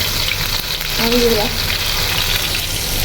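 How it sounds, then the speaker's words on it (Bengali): Lentil fritters made with pumpkin leaves fry in hot oil, a steady loud crackling sizzle throughout, with a brief voice heard faintly over it. "এখন এটা আমরা ভেজে নিব।"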